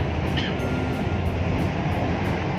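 A metro train at Kalma Chowk station in Lahore rumbles steadily and loudly nearby, with a rhythmic clicking pulse repeating every half second, and no talking.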